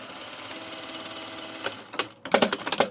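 A sewing machine set to a long stitch length runs on an unlined Auburn blazer, a low steady whir breaking into a quick run of loud, rhythmic stitching bursts near the end.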